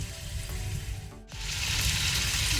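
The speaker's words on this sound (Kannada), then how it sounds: "ಒಳ್ಳೆ ರೀತಿ ಮೀಡಿಯಂ ಫ್ಲೇಮಲ್ಲಿ ಒಂದು 7 ಮಿನಿಟ್ಸ್ ಫ್ರೈ ಆಗಲಿ." Chicken pieces fry in a pan over a medium flame, giving a steady, close sizzle. Partway through, a brief dip is followed by a louder, denser crackle.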